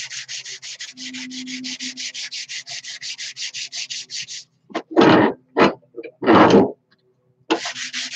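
Wood is sanded by hand with 120 grit sandpaper in quick, rhythmic rasping strokes, a fast run of short scrapes followed by a few longer, louder, separated strokes.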